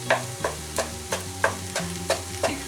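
An egg cooking in a pan for vegetable egg fried rice, with a utensil scraping and tapping at a steady rhythm of about eight close strokes over a soft sizzle, no voices.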